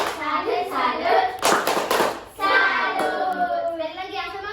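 A rhythmic "tepuk salut" hand-clapping chant, with a group of children clapping in quick bursts while a voice leads the chant.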